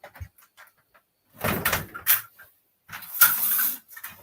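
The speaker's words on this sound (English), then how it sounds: "let me shut the door" A door is shut indoors in a warm room, producing a couple of sliding, scraping pushes and a final thud, with faint small knocks before them.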